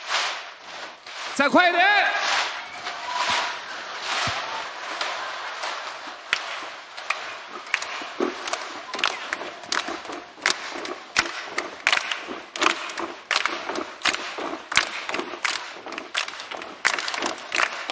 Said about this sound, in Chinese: 那我们现在这样，跺一下脚，拍一下手